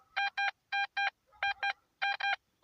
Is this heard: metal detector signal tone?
yes